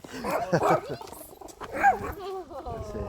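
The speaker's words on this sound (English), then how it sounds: "There's a couple of nice dogs there, Otis and Sunny." A couple of short, rough dog barks close by, followed by a higher whining yelp, with faint voices around.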